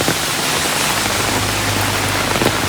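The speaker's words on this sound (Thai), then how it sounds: "ฝนตกหนักแล้วลมลมแรง" Heavy rain with strong gusting wind, a steady dense roar of downpour close by that stays loud and unbroken throughout, with no voices.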